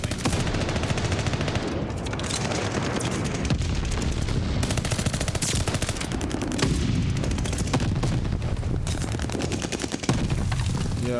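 Dense, continuous video-game gunfire with incendiary bullets, rapid automatic bursts and booms layered without pause at a loud, steady level throughout.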